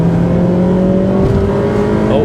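Engine of a Honda Civic Type R FD2 with its K20A four-cylinder, climbing in revs toward the VTEC crossover, loud and close, with a rising tonal drone under wind and road noise, a voice talking over it.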